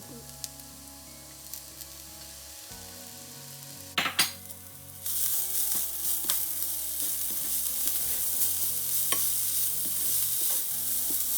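Cut bitter gourd tipped into a pan of roasting grated coconut; quiet scraping at first, then a loud clatter as the pieces drop in, followed by a strong, steady sizzle with occasional stirring clicks.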